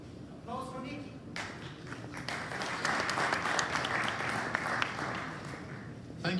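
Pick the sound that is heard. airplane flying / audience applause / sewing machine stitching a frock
audience applause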